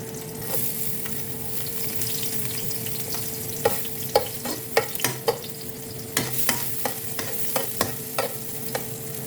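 Chopped garlic sizzles steadily in hot cooking oil, a dense continuous hiss with a run of sharp utensil clacks against the pan from stirring partway through; no one speaks.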